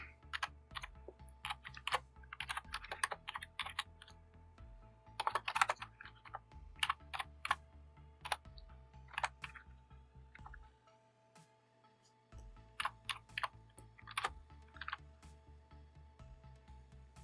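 Typing on a computer keyboard while writing code gives quiet, irregular bursts of clicking keystrokes, pausing briefly now and then, over a faint low background hum.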